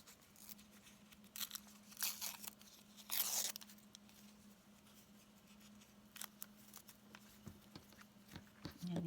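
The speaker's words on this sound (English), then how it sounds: "It's a very quick and easy way to get paper off of your adhesive." Paper backing peels off fusible adhesive for a quilted appliqué butterfly block in short, quiet, crinkly tearing bursts. One longer rip stands out among scattered small crackles.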